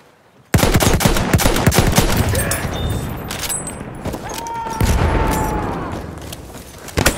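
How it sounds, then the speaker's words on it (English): Sustained machine gun fire in the Battlefield 1 video game, rapid loud bursts that start abruptly and keep going through a busy battle din, with a tonal whine sweeping across the middle. "Machine gun!"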